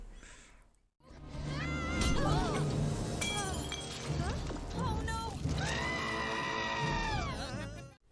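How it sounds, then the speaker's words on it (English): An animated Star Trek: Lower Decks character lets out a long, wavering high scream after a brief pause, loud and close, with layered harmonic squeals and some talk underneath. "that sounds like they sampled Boimler's scream for that"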